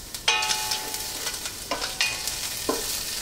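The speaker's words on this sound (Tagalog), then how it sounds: "igigisa na natin dito yung ibang gulay pa. Kagaya ng bawang, at eto na yung bawang" Garlic sautés in a pan of oil for shrimp pancit bihon. A soft, steady sizzle runs underneath while a metal utensil strikes and scrapes the pan about four times.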